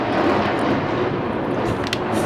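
Airplane engine roaring overhead near Seoul Air Base in Seongnam, a loud continuous broadband rumble that stays steady throughout without a break.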